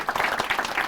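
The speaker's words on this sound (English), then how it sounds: "Big round of applause." An audience applauds steadily at a school showcase, a dense burst of many hands clapping at close range, brief and loud.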